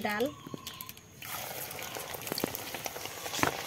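Lentils are tipped into hot oil and begin frying, a brief voice and quiet stretch giving way to a sudden steady sizzle with scattered pops and clinks, fairly close.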